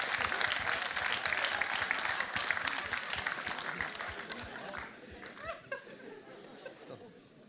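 Applause at a pageant gala, a full audience clapping loudly with some chatter and laughter mixed in, then thinning and fading out as individual claps and voices remain.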